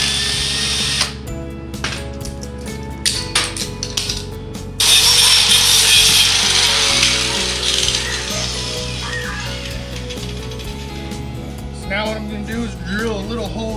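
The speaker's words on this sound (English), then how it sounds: "I'm gonna very carefully try to drill this out." A small power drill whirs in short bursts, then runs steadily for several seconds with a grinding, rising pitch, close by, drilling out a part of a Mikuni carburetor on a Predator 212 engine; mechanical clicks between.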